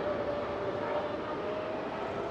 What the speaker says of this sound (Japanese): 路面電車、これトラムっていう電車なんですけど、こういうのもね走ってるんですよ